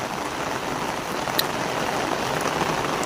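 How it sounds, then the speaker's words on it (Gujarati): Heavy pouring rain driven by wind roars in a steady, dense wash with no letup, loud and close throughout. "ધોધમાર વરસાદ ચાલુ છે જબરજસ્ત 180 સ્પીડમાં આવે"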